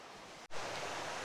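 Raven Creek runs beside a hiking trail near Raven Cliffs Falls outside Helen, Georgia, giving a steady close rush of flowing water with one brief dip partway through.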